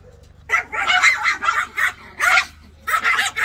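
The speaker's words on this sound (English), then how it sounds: "they're not going to stop barking" A Yorkie barks indoors in quick bursts of high, sharp yips, several short clusters separated by brief pauses, close and loud with no talking.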